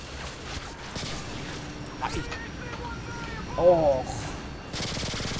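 Bursts of online first-person-shooter gunfire, including a G18 pistol, crackle in quick volleys amid game noise, with a voice talking over the shooting.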